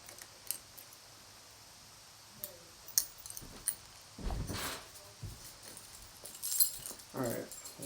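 Metal keys jangle in short, faint clinks while someone fumbles to unlock police handcuffs, with brief clicks and rustling and people talking nearby.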